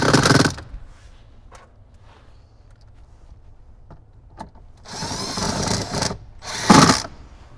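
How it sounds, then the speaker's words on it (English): A power driver runs 7mm dash bolts back into a Jeep Wrangler JK interior in short, separate whirring bursts, near and fairly loud, with quiet gaps between them. "So now we can go ahead and replace the 7mm bolts that hold our dash together."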